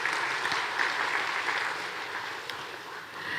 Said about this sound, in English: A big round of applause, please, ladies and gentlemen.